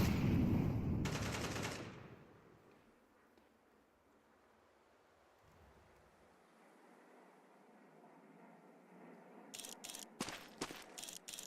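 Counter-Strike 2 gunfire opens with a loud burst, then quiet ambience follows before a few sharp, closely spaced shots crack near the end.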